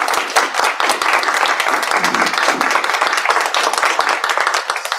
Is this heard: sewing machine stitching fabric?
no